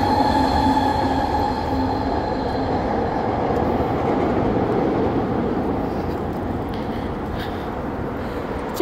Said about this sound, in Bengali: Sky train.